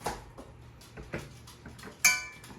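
A greased pan picked up and set down in a home kitchen: a few soft metallic knocks and clinks spaced apart, then one sharper ringing clank near the end, fairly close and fairly quiet.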